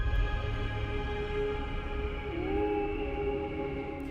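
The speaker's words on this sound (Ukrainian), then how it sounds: "Ці гравітаційні хвилі буквально і є звуком викривленого космічного простору" Sonified gravitational waves from merging black holes: a low, droning synthetic tone with steady hum, joined midway by a rising, gliding whistle-like chirp, eerie and continuous.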